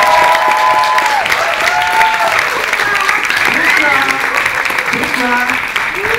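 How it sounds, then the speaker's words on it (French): An audience at a stage show at Le Refuge in Montpellier applauds steadily for about six seconds, with whoops and cheering voices rising over the dense clapping. "Mesdames et messieurs, veuillez applaudir Miss Stéphanie"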